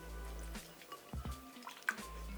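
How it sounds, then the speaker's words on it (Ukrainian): Pork pieces dropped into a marinade with garlic and ginger, making a few wet plops and squelchy splashes in the middle, quiet and close against a low background hum. "Перемішуємо і вкидаємо в маринад м'ясо."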